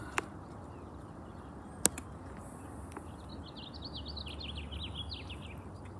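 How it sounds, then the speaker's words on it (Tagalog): Faint, scattered bird chirps over a steady outdoor hiss near the Pacific Ocean coast, with a couple of sharp clicks near the start. "Marinig nyo yung mga huni ng ibon."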